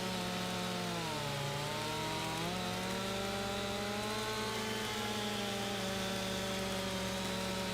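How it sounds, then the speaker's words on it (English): Chainsaw felling a chestnut tree in Farming Simulator 25, a steady loud engine whine that rises and falls in pitch as it cuts, running continuously without speech. "Well, this chestnut tree is coming on down now. I mean, I can stop the chainsaw and it'll be fine"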